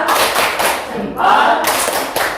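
A group in an Indonesian classroom or training session does a patterned thumb clap, a busy run of claps and thuds mixed with voices, dipping briefly before picking up again.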